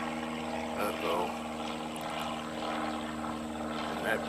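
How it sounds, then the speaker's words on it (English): A propeller plane flies overhead shortly after takeoff near a golf course's uphill par-4 16th hole during the Georgia Amateur, a steady droning engine that stays fairly distant throughout and never rises much in loudness. "And that plane probably just took off from Daniel Field"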